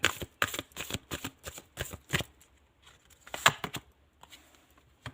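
Tarot cards riffled and shuffled in quick bursts of crisp papery flutters, pausing briefly, then a few sharper snaps as cards are drawn from the deck, close and moderately loud with no talking.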